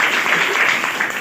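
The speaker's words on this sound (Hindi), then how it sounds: "एक बार ताली लगा दो भाई उनके लिए" An indoor audience applauds for a few seconds, a dense steady clatter of many hands clapping, fairly loud and close.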